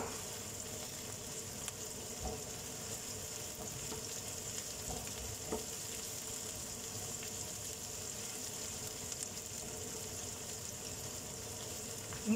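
Garlic sizzles steadily in a pan for chicken afritada, a soft, even frying hiss with a few faint stirring clicks throughout.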